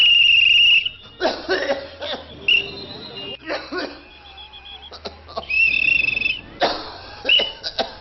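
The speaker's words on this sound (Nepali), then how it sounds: "यो मान्छेले यसरी लगातार खोक्न थाल्नुमा कति भयो?" A man with a cough that has persisted for over two weeks coughs again and again in short harsh bursts, separated by brief pauses, close and loud, with a high insect-like trill at times.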